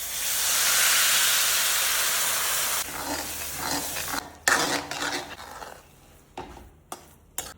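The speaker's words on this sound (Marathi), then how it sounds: "उरलेल्या 1 वाटी तुपात पुन्हा रवा भाजून घेऊ। रवा व्यवस्थित लाल झालेला आहे, आता त्याच्यामध्ये दूध घालूया।" Milk poured into hot ghee-roasted semolina sends up a loud, steady steam hiss that fades after a few seconds into spluttering bubbles and scraping of a pan.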